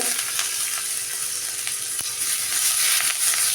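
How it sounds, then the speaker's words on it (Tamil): Mustard seeds, cumin, asafoetida and curry leaves temper in hot ghee, a loud, even hiss with a single sharp pop midway and no talking. "கடுகு ஜீரகம் பெருங்காயம் போட்டு நெய்யில் தான் தாளித்து கொட்டணும்."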